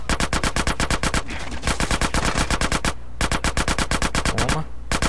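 Automatic gunfire in GTA San Andreas Definitive Edition rattles in loud, rapid bursts of evenly spaced shots, broken by two brief pauses, close and dominant throughout.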